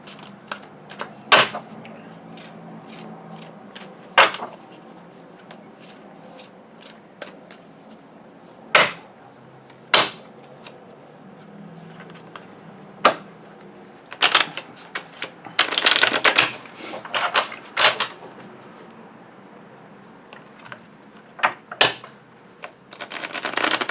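Tarot cards shuffled by hand, repeated crisp riffling bursts and sharp card snaps scattered irregularly, with a dense flurry of shuffling in the middle, close and loud over a quiet room.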